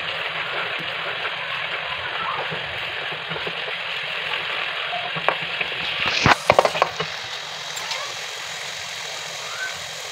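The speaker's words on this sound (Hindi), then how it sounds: "दो चम्मच ये पिसी हरी मिर्ची डालूंगी। इसे अच्छे से फ्राई कर दूंगी" Ground green chillies fry in hot oil for chana dal, giving a steady close sizzle with a low background hum, then a brief burst of louder clatter and crackle midway before the frying settles again.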